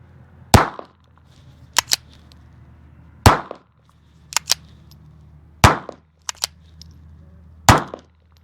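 Suppressed Ruger Mark IV pistol fired nearby, a series of sharp cracks in irregular singles and quick pairs, about eight shots with short ringing decays.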